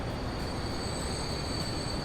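A freight train in the video game Transport Fever rumbles past in a busy freight yard, a dense continuous roar with a thin high squeal riding on top.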